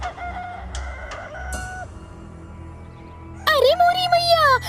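A cartoon hen gives a few short, sharp clucks near the start, then a rising, warbling squawk toward the end, heard over background music and sound effects.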